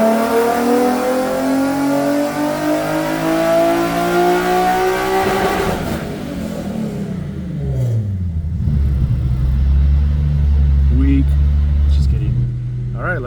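A tuned car is revved on a dyno, its engine climbing loudly in pitch as it winds up, then dropping back to a lower rumbling drone; a voice speaks over it.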